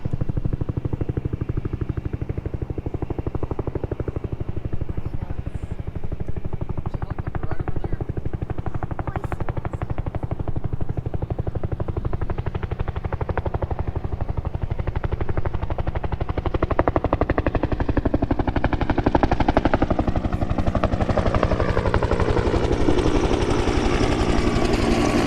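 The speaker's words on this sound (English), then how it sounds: "I hear a helicopter too, but I don't see it." A helicopter's rotor thumps steadily and grows louder as it approaches, with a voice speaking faintly underneath.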